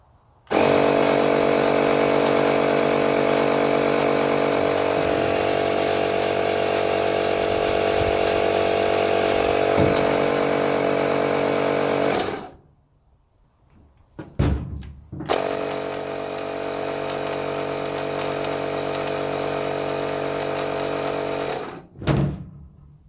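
Makita 18V cordless inflator runs loudly with a steady, buzzing motor hum for about twelve seconds, stops briefly with clicks, then starts again for several more seconds before cutting off.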